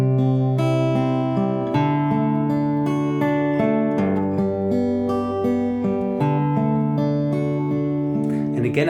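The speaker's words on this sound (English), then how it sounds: "the whole guitar part, if you practice a little bit, could sound like this" Acoustic guitar plays a song's chord accompaniment, with sustained arpeggiated chords ringing continuously at steady volume, solo with no voice.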